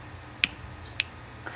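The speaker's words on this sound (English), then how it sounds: "You keep hearing me snap my fingers." Three sharp, fairly quiet finger snaps spaced about half a second apart over a soft background hum, with nothing else going on.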